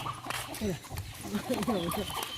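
Chickens cluck nearby at a Thai temple in short, choppy bursts, with a voice talking faintly underneath.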